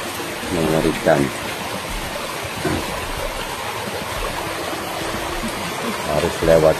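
River water rushing steadily as people, including a schoolgirl, wade across a slippery river in Semarang; the continuous flow sits under short bursts of voices and calls throughout.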